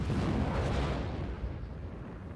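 A loud, deep explosion from a scene in The Mandalorian television series booms at once and rumbles on, slowly fading over a couple of seconds.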